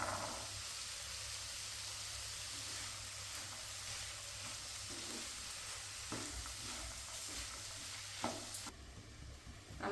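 Mixed vegetables and peas sizzle steadily in a pan for street-style vegetable chops, with occasional soft scrapes and clicks of stirring, fairly quiet and with no talking.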